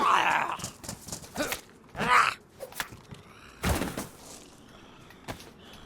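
Zombie dog in the survival video game DayZ, with several growling, snarling bursts close by, separated by thuds and quieter gaps.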